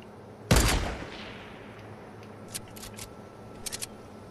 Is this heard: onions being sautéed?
no